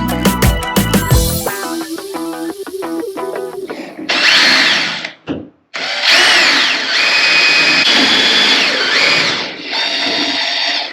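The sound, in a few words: drill boring holes through composite camper wall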